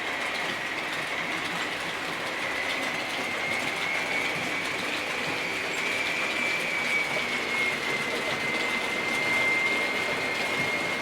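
A Bachmann Class 57 model diesel locomotive notching up hums steadily with a sustained whine and rumbling motor noise, constant and close, no voices.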